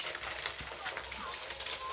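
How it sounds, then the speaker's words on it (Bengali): Katla fish fries in a pan with a steady, close crackling sizzle that holds even throughout, with no break in the hiss. "মাছ ভেজে নিচ্ছি এখন, তোমরা দেখতে পাচ্ছ মাছ ভাজা হচ্ছে হালকা করে।"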